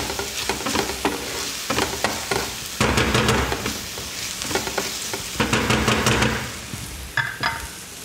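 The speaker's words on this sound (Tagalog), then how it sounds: "nasuti na natin ang ating onion" Onions sauté in a pan for a classic beef stew with a steady, close sizzle, broken by repeated scraping and stirring strokes.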